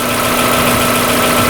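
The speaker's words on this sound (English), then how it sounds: "So the engine's been running now for a while." A Mazda MX5 engine idling steadily at operating temperature, heard up close with an even, continuous hum and a faint mechanical rattle throughout, no voices.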